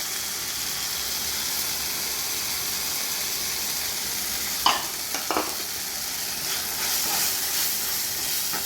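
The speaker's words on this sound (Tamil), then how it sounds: "கொஞ்ச நேரம் நல்லா வதக்கணும் பச்சை வாடை போகணும்" Ground masala paste sautés with softened tomatoes in a pan for a tuna curry, making a constant hissing sizzle with a couple of sharp spoon scrapes midway, close by and without speech.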